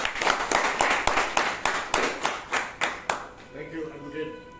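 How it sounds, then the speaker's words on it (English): Clapping from the audience at an award ceremony in Goa, a steady run of about a dozen evenly spaced claps that fades toward the end, close and fairly loud. "he's someone who needs a big round of applause"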